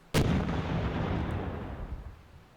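Artillery fire in the Panzer Campaigns Kiev 43 wargame: one sharp, loud boom at the start that rolls off into a long fading rumble, no voices.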